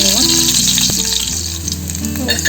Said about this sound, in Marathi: त्याच्यामध्ये तेल टाकूया आणि त्याला ठेचलेल्या लसणाची फोडणी द्यायची आहे